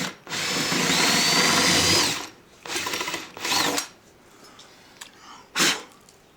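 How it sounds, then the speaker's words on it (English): A power drill whirs steadily into the wood of a seven-string Les Paul-style guitar for about two seconds, then gives a few shorter bursts with pauses between, loud and close. "I think I might be able to still drill here and hit that."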